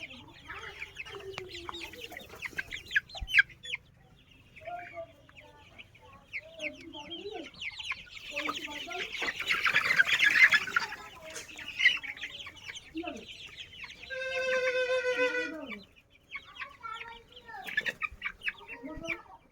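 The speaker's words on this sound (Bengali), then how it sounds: "মুরগি দেখেন আপনারা।" Sonali super hybrid chickens, 30 days old, cluck and chirp on a farm in a busy near chorus of short calls and squawks, with one louder, rising cackle standing out.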